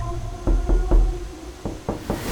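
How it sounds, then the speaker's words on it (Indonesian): Hard knocking on a wardrobe door in a bedroom: two quick bursts of three dull, heavy thuds each, separated by a short pause, loud and close with no voices. "tiba-tiba suara ketukan dengan kencang berbunyi pada pintu lemari kamarnya"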